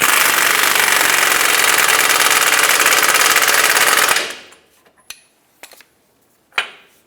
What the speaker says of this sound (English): I'm just going to use my air gun and make it nice and tight